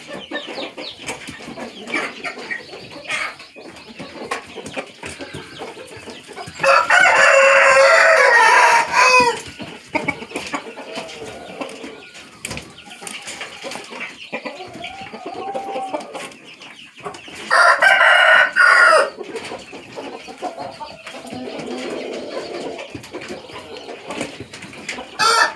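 Chickens and a rooster on a farm: soft clucking runs throughout, broken twice by a loud, drawn-out rooster crow close by.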